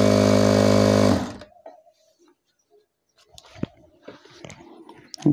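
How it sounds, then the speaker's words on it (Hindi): A Fucen sewing machine stitches cloth in a loud, steady whirring burst for about a second, then stops abruptly, followed by faint scattered handling clicks and small knocks. "ये कपड़ा रख लिया, अब लगाएंगे सिलाई।"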